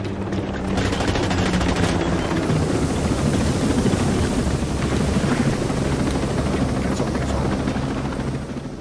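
Helicopter in the shooter game Ghost Recon Breakpoint during a raid, a loud continuous rotor roar and engine drone filling the whole stretch, with bursts of gunfire layered over it.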